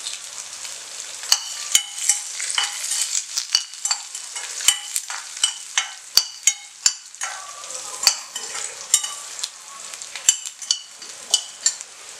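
Finely cut chilli sizzles in hot oil tempering for Andhra-style chickpea patoli. A steady, soft frying hiss runs throughout, punctuated by repeated sharp clicks and scrapes of a spoon stirring against the pan.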